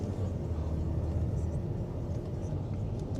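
A used US-import car's 3.6 engine running at idle, a quiet, steady low rumble that stays even throughout with no other sounds or voices.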